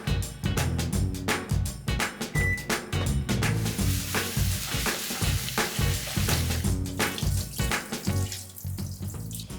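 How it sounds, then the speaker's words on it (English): Water runs steadily through rice in a handheld rice rinser in a home kitchen during weeknight dinner prep, a continuous close splashing and trickling with grains shifting, loud and unbroken with no talking. "It makes rinsing rice really easy and kind of fun."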